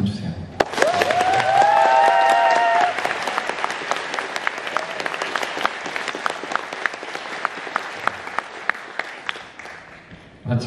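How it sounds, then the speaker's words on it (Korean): Concert audience at a live pop performance applauds steadily, a thick wash of clapping with distinct individual claps standing out; a voice speaks briefly near the start, and the applause thins and fades toward the end. "박수 한번 주세요"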